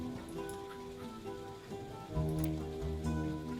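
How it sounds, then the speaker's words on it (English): Steady rain falls in a video game, a continuous wash of patter over a looping musical score that swells partway through, with no talk. "It's raining. Since when has there been weather in this game?"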